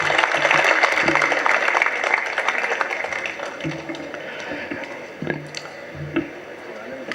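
An audience claps for someone at an award event, a dense burst of applause that fades through the stretch, leaving scattered claps and taps as a voice speaks over the end.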